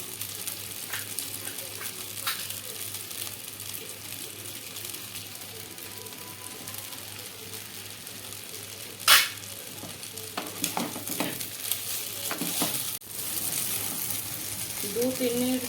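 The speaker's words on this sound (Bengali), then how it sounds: "দু 3 মিনিট ধরে পাস্তাটা সুন্দরভাবে এইভাবে ফ্রাই করে নিয়েছি" Pasta with egg and vegetables is stir-fried in a pan with very little oil, giving a constant sizzle with scraping and clattering stirs, one sharp knock midway and louder frying near the end.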